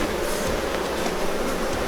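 Honey bees, Buckfast crossed with Welsh Black, drone steadily and loudly during an open hive inspection in June, a thick continuous buzz of many insects close by.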